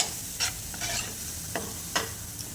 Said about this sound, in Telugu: వీటన్నిటిని కలిపి ఒక 2 మినిట్స్ పాటు ఫ్రై చేసుకుందాము.